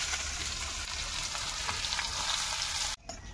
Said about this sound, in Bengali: এখন পেঁয়াজ দিয়ে দেব।